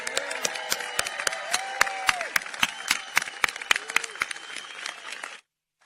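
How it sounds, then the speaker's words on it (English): Audience applause for newly naturalized American citizens at a July 4th ceremony in Washington, D.C.: a steady patter of clapping with scattered whistles and cheers, ending abruptly. "let's have one final round of applause for America's newest citizens"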